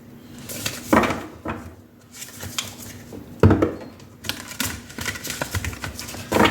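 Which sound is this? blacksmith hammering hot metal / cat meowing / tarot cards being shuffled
tarot cards being shuffled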